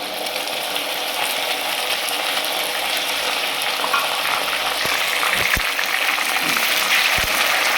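Ginger garlic paste sizzling with browned onions in a hot pan for a spicy kadai mutton curry, a steady loud frying hiss with a few stirring clinks near the end and no talk.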